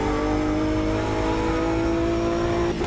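BMW M4 GT3 race car engine in the Automobilista 2 sim racing game, a loud sustained high-pitched drone holding steady at high revs, then briefly dipping at the end, with no talk over it.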